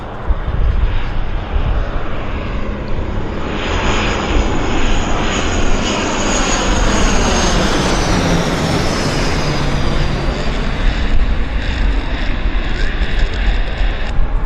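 An airplane flies slowly past on approach near the runway at Vancouver Airport, its loud engine roar swelling and then easing with a sweeping whine, close and continuous with no talk.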